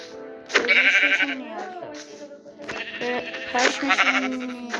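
Sheep in the Minecraft video game bleat repeatedly, several wavering nasal cries close and loud, with a voice talking over them in the background.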